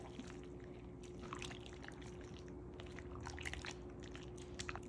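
Cheesy pierogies and kielbasa being gently stirred in a crockpot, giving soft wet squelching and scraping that runs steadily throughout under a low constant hum, close and fairly quiet with no talking.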